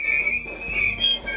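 A large group of piccolos plays the Stars and Stripes solo together, a bright, shrill sustained melody that rings loudly and evenly with some distance.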